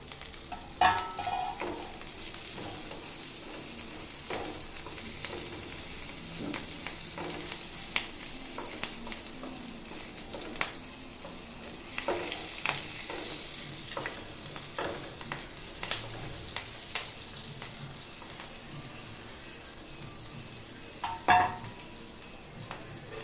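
Cumin and green chillies sizzle in a pan for butter paneer, a steady close frying crackle with irregular stirring clinks and scrapes over the top, and no talking.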